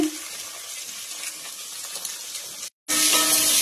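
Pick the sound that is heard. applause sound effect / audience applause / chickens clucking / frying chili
frying chili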